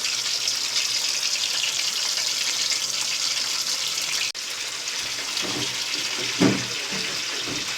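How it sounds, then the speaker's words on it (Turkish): Constant sizzling hiss of peppers frying in hot oil, steady throughout, with a few soft clinks of utensils toward the end. "Şimdi biberlerimizi kızartıyoruz."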